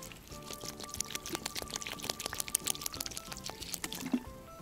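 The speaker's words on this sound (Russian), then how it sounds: "А теперь поливаем." Water poured from a small container onto soil over a freshly planted acorn, a soft steady trickle heard close and fairly quiet for a few seconds.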